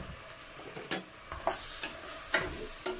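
Artichokes sautéing in a pan with lemon and olives, a steady soft sizzle broken by several sharp scraping stirs of a utensil against the pan, close and moderately quiet with no talk.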